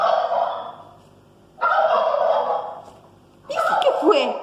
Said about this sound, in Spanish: Es un pavo.